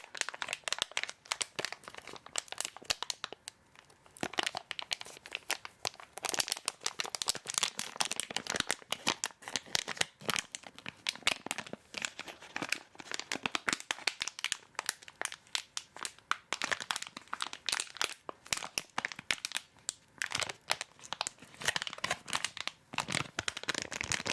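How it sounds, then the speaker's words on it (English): A collectible action figure is unwrapped from its plastic package, with continuous close crinkling and crackling of plastic, uneven bursts of rustling and tearing going on without pause. "let me just get this out of the package and show you"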